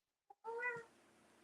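A cat gives a single clear meow just after a tiny chirp, close and soft, followed by quiet background hiss.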